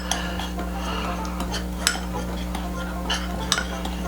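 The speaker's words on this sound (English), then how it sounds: "Now I'm going to mix this up generously." Spice rub of peppers and onion salt being mixed in a bowl for smoked pork ribs, heard as light scraping and occasional utensil clinks against the bowl, steady and close over a constant low background hum.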